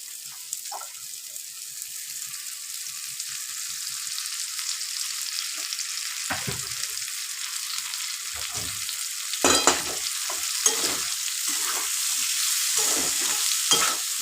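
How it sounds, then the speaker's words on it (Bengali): Okra frying in oil in a pan while a vegetarian okra dish is made: steady close sizzling throughout, broken by occasional stirring scrapes, with no voices. "ঢেঁড়স বেগুন এগুলো ভাজতে একটু তেল লাগে"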